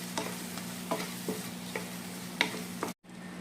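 Chicken with turmeric and Kashmiri red chilli powder is stirred in a pan, a low frying hiss under sharp periodic scrapes and taps of a spoon, ending in a brief cut of silence.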